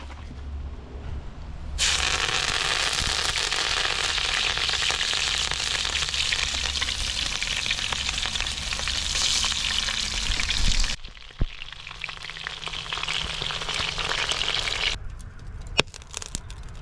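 Red snapper frying in a pan, a loud, steady crackling sizzle that runs continuously and close up, briefly dropping and shifting in tone midway before sputtering on with a few sharp pops.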